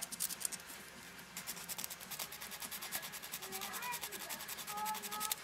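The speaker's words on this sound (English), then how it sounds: "Guess I went over it again with 600 grit" A Bandai 1:100 Macross Missile Phalanx plastic model kit part is sanded with 600 grit sandpaper: close, quiet, rhythmic rubbing strokes that speed up into a fast scratchy buzz, heard alone.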